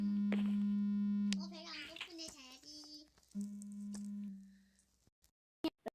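A telephone gives off a steady electronic tone that stops, then sounds again after a burst of voices talking over the room, followed by a few sharp clicks.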